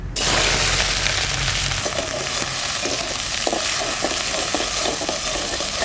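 Chopped onion hits hot oil in a wok with a loud opening burst of sizzle, settling into a steady crackling fry with small pops, stirred now and then, and no voices.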